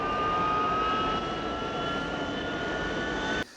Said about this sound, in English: Its main engines roar full on, and the draft accelerates toward them even as it loses altitude.